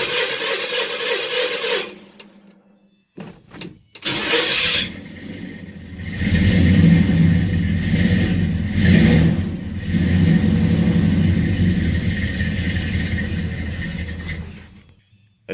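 A 1982 Chevy S10 pickup with a 2.8 V6 cranks and starts after a couple of tries, then revs loudly and steadily up close before shutting off near the end.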